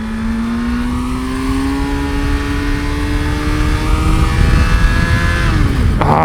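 A 1989 Suzuki GSX-R 750 sport bike revs up on a road ride, its engine note climbing steadily in pitch, loud and close, then dropping off as the rider shifts near the end.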